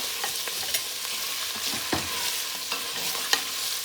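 Garlic and hot pepper fry in a pot with a steady sizzle as a spoon stirs them, with occasional soft knocks against the pot's side.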